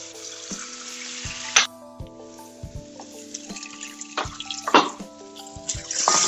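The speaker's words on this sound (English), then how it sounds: "And let that fry." Oil, garlic and curry powder sizzle steadily in a pan while making Singapore noodles, with occasional sharp clanks of a utensil stirring against the pan.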